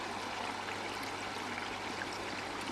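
Water draining out of homemade pond filter tubs, a steady broadband rushing and trickling flow that holds even throughout, moderately faint with no talk over it.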